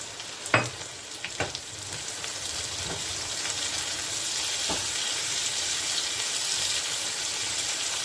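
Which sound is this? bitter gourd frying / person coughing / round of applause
bitter gourd frying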